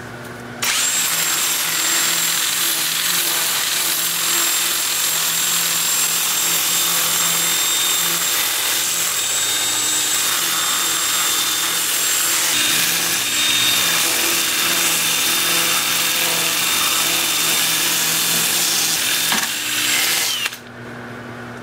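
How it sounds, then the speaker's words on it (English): A 2-inch disc sander at 80 grit sands small wood-turned parts, giving a continuous high whirring grind that holds steady for about twenty seconds and then cuts off at the end. "On my 2-inch disc sander, I'll sand all of the turned parts."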